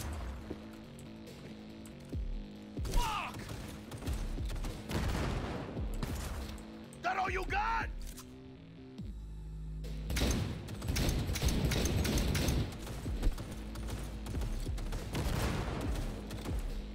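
Gunfire in the video game Cyberpunk 2077 comes in rapid bursts and volleys, broken by short pauses, then a long dense stretch of shots with clattering impacts.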